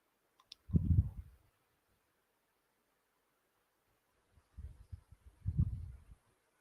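A computer mouse is clicked quietly in two small clusters, a couple of soft taps early on and a quick run of clicks a few seconds later, with near silence between and no talking.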